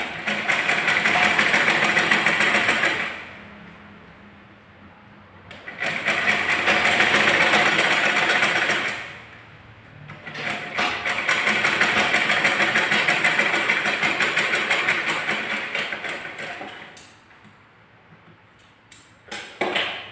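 An electric sewing machine stitches the button placket of a 30-inch blouse, running in three long motorized bursts separated by short pauses, close and steady.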